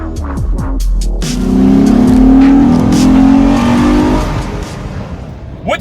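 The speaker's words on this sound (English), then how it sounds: "first test drive with the family" A Honda Accord on a first family test drive, its engine swelling into a strong, steady revving drone as it accelerates, holding loud for a few seconds before easing off.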